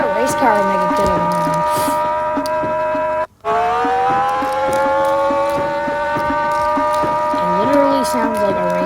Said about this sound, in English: Who thought a race car would make a good alarm?